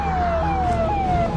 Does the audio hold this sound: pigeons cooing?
no